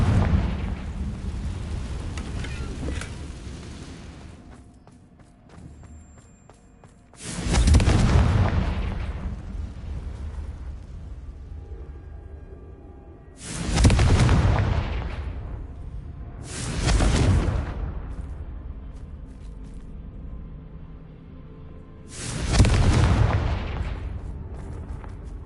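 Repeated Confringo blasting spell explosions in the Hogwarts Legacy video game: four loud, sharp booms spaced several seconds apart, each decaying into a rumble over a steady low game ambience.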